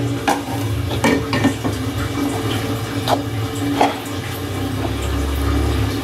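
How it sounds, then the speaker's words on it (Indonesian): Rice flour batter being stirred with palm sugar water poured in gradually, a wet sloshing swirl with occasional soft knocks against the bowl, close and continuous with no talk. "Kita masukkan secara bertahap dan kita aduk-aduk si tepungnya ya"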